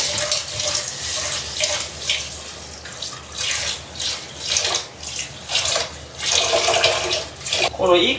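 Running water from a kitchen tap pours steadily while rice grains are swished and rinsed by hand in a bowl, with surging, sloshing washes rising and falling throughout, close and fairly loud.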